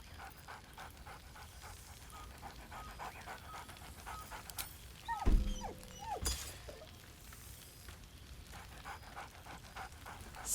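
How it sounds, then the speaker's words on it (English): A dog in the video game Baldur's Gate 3 pants rapidly and steadily, with a couple of short whimpering yips, close and soft against a quiet background. "Scratch barks merrily in something like agreement."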